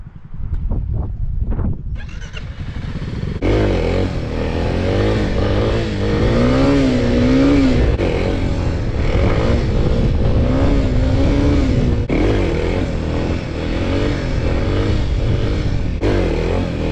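A 50cc dirt bike engine, loud and close, revs hard and holds a sustained buzzing drone during a wheelie, with rising and falling pitch swells over a steady roar throughout.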